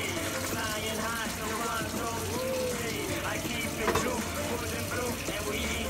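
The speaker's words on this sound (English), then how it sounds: "Add some motherfucking water." Water pouring into a pot of browning ingredients while cooking thom khem, a steady gushing fill heard under ongoing background noise.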